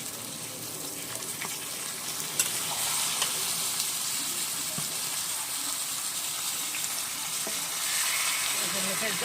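Meat sizzles steadily in hot spiced oil and is stirred in a pan for home-style meat curry, with a continuous bright frying hiss and occasional scrapes and clinks.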